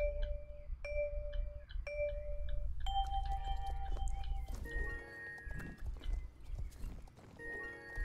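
Horse hooves trotting in the online horse-riding game Star Stable Online, a steady clip-clop rhythm with chiming game tones over a low hum, mid-distance and moderately loud, with no talk.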